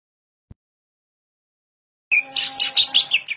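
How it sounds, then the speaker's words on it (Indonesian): A Kalimantan green leafbird (cucak ijo) sings a bright, rapid burst of warbling, whistled notes lasting just over a second, close and clear, after a single faint tap and near silence. "Cucak Ijo Kalimantan."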